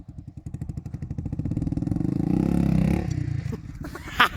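A 350cc Aprilia Tuareg motorcycle engine thumps close by, its single-cylinder pulses coming quickly and evenly, then swelling as the throttle opens into a louder revving roar that drops away near the end with a few clattering knocks.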